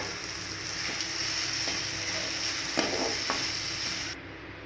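Onion and tomato sauté in a pan with salt, a steady close sizzle and hiss with a few scraping stirs and light clicks, no talking, ending abruptly.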